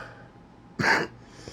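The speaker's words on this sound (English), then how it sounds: "And yes, I'm still coughing." A single short, sharp cough cuts through a quiet room, followed by a faint breath, close to the microphone.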